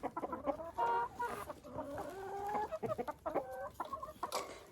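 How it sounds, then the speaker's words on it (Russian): A flock of chickens clucks steadily and busily while pecking crumbled yeast off frozen ground, with overlapping close calls in an irregular rhythm and no talking. "И курочки все собирают."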